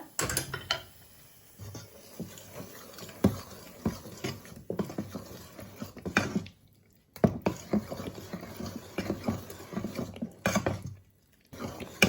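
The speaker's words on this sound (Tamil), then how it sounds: "இந்த தாளித்ததையும் சேர்த்துட்டு இந்த தோசை மாவை நல்லா ஒருக்கா மிக்ஸ் பண்ணிடுங்க" Dosa batter being stirred together with fried tempering in a bowl, giving soft wet scraping and patting sounds with a few light knocks against the vessel, steady at close range with brief pauses.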